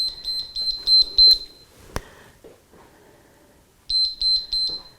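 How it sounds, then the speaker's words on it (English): A high electronic alarm beeps in quick repeated bursts, about eight pips, then stops for a couple of seconds with a sharp click before another short run of beeps; close and clear. "let me stop this beeping"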